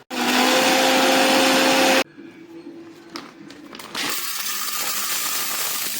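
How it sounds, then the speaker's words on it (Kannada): Mixer grinder whirring loudly as it grinds grated coconut and poppy seeds, a steady high-pitched roar for about two seconds, then a brief lull with faint clatter before the motor runs again at a lower, steady level. "ಇದನ್ನ ನುಣ್ಣಗೆ ರುಬ್ಕೋಬೇಕು."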